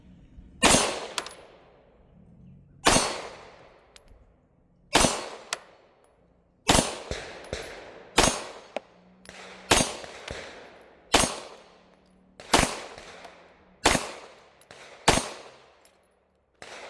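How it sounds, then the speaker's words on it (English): Single gunshots from an MPA DS9 LOC MK2 pistol at a shooting range, eleven sharp, loud reports spaced roughly one to two seconds apart, each with a short ringing decay. "I'll do a limp wrist test to see if the gun's actually going to run."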